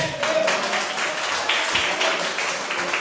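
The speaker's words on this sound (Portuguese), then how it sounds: "Aplaude ao Senhor, igreja." A church congregation claps together in a sustained burst, dense overlapping hand claps filling the room at fairly close range with no distinct talk over them.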